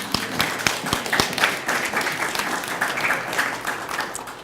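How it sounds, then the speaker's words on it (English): Audience at a community presentation for World Suicide Prevention Day breaks into clapping: a few sharp, separate claps at first, then a steady, fuller patter of many hands that slowly fades. "So give her a clap"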